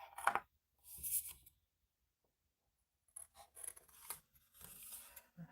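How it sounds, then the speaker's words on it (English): Scissors trimming paper around a heart shape for a fold-down heart wedding bouquet frame, a few short close snipping bursts separated by a pause of silence, no talk. "Okay, so I'm just going to trim some of this off around the edge."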